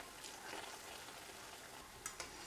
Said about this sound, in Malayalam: ഇനി ഇത് ചൂടായ വെളിച്ചെണ്ണയിലേക്ക് ഇട്ട് കൊടുത്തിട്ട് ഫ്രൈ ചെയ്തെടുക്കാം